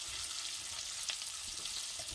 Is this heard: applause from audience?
no